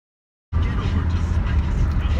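A car rolls along a bumpy road in Austin, Texas, its low engine and road rumble starting abruptly and holding steady and close.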